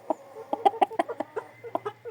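A rooster clucking in a quick series of short, close, throaty calls with brief pauses between them.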